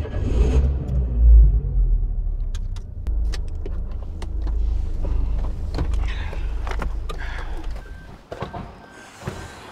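A car pulls up and drives close by, a low engine rumble rising and then easing off, with scattered clicks and knocks and a few faint voices near the end.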